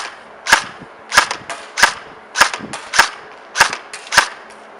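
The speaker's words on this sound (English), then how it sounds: "LCT AK74 single shot." LCT AK74 airsoft replica (AKS-74 copy) firing single shots, seven sharp snapping reports spaced roughly evenly about half a second to a second apart, close and loud with no talking.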